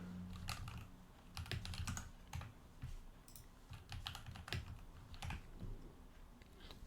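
Rapid, irregular clicking of a computer keyboard as someone types a server configuration, the sharp keystrokes close and clear with brief pauses between bursts and no talking.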